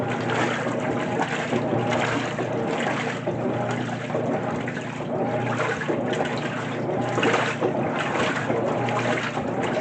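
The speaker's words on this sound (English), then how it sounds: "now that has a fabric softener, it's going to be turned into the rinse very well" A 2024 GE top-loading washing machine running its rinse cycle with fabric softener, giving a steady, moderately quiet wash of sloshing water and motor hum that continues evenly throughout.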